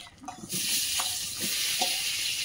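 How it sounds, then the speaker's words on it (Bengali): Pumpkin pieces frying in hot oil in a kadai (wok) build into a broad, steady sizzle after some soft clatter at the start, with occasional stirring knocks close up. "এবার কুমড়োটা ভাজা বসিয়ে দেবো।"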